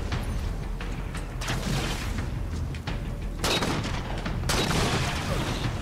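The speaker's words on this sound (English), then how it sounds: "I'm throwing grenades." Grenade blasts and gunfire in a Halo 4 Spartan Ops firefight, with dense bursts of shots and booming explosions layered over a constant battle din, louder crashes near the middle and end.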